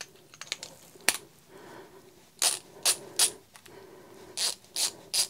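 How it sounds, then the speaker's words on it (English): A Snap-on ratcheting screwdriver clicks in short bursts of rapid ratchet clatter with a slight grind, close and fairly quiet, separated by brief pauses with no talking. "You can hear there's a bit of a grind on this side."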